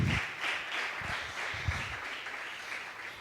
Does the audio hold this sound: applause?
yes